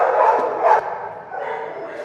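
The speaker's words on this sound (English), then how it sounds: "you sir, you are barking right on my ear" A small dog named Diamond barking and whining right at the microphone, a few close, loud yelping cries followed by a drawn-out whimpering whine.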